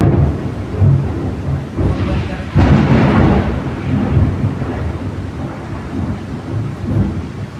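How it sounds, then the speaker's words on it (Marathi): Heavy monsoon rain pours steadily with deep rumbling thunder rolling through, a louder crash near the middle, heard from indoors behind a closed glass window. "एवढा भयंकर पाऊस"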